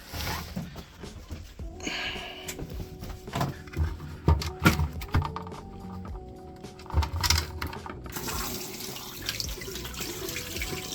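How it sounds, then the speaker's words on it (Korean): Water from a freshly opened tap runs and splashes during a leak check after plumbing work, with uneven gushing and clattering surges across the span and a steadier flow near the end. "설비는 다 끝났고 이제 물을 틀러 가보겠습니다"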